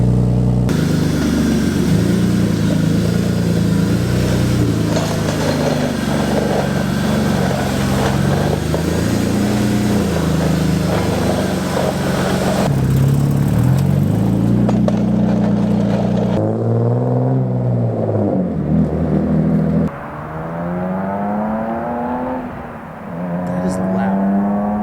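BMW E36 328is with a new exhaust starting up and revving: a loud idle rumble swells through repeated throttle blips, then the engine spins up and falls back in rising and falling sweeps, close and dominant.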